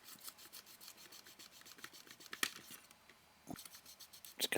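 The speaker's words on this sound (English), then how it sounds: "just giving this a little clean here with some alcohol wipes just to get rid of any solder" Alcohol wipes rub across a Nintendo Game Boy circuit board, a close, soft rasping scrub in quick repeated strokes with a brief pause near the end.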